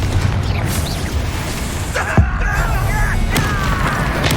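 A Confringo fire spell bursts in Hogwarts Legacy with a booming explosive impact amid ongoing game combat ambience, followed by crackling and whooshing debris, with brief game voices around it.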